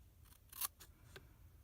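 Scissors snip through cardstock paper while a gift box insert is cut, a few short crisp cuts close by at an uneven pace, with one louder snip among them and no talking.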